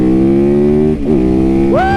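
A Supermoto motorcycle engine idles loud and close with a steady drone, dips briefly, then revs sharply upward near the end.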